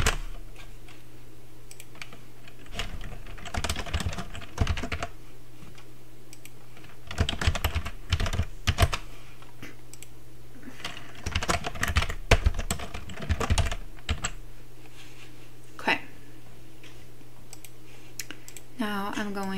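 Typing on a computer keyboard while setting text in a design program, with irregular clusters of quick key clicks under a low steady hum, with a person talking intermittently.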